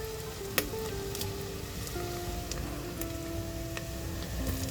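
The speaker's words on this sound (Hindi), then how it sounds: "अब हम इसमें प्याज डालेंगे।" Finely chopped onions frying in a pan for street-style Mumbai pav bhaji, a constant close sizzle with faint ticking and a few light clicks, no talking.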